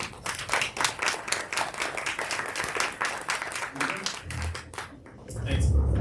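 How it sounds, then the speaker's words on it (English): A round of applause for a panel at a live-streamed talk, loud, crisp, fast clapping from a crowd that thins and fades after about four seconds, giving way to low rumbling handling noise and a voice. "Let's have one more round of applause for our panel."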